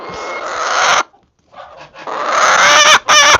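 A chicken in a backyard coop clucks and squawks loudly up close in two bursts separated by a short quiet gap, with a few sharp calls near the end.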